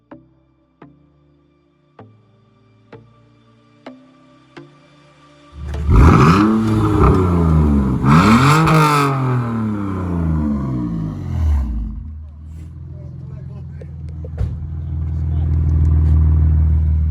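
A BMW E46 328i six-cylinder engine, rated at 192 hp, blips and revs hard twice in quick succession. The clicks before it build into a loud roaring surge that falls back to a steady close idle.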